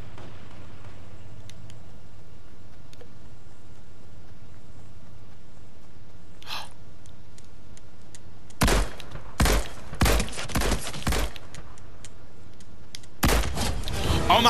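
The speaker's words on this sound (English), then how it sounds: "That sounded like a gunshot." Gunfire in the video game Fortnite: after a long near-silent stretch, a cluster of sharp, loud shots cracks out, then one more burst near the end.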